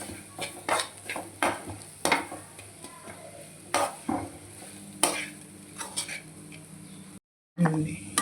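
Bitter gourd tossed with onion chili paste is stirred in a pan, a spoon scraping and clinking against the metal in quick repeated strokes over a low sizzle, with a brief silent gap near the end.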